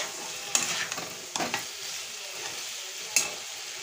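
Guava pickle gets stirred in a hot pan after jaggery is added. Soft sizzling runs throughout, broken by a few sharp spoon scrapes and knocks against the pan, with no one talking.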